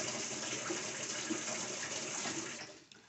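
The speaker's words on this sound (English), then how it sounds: "right now the hot water valve is just activated" Hot water pouring through the open inlet valve into a Whirlpool coin-operated washer, a steady loud gush that runs evenly for most of the clip and then tapers off near the end.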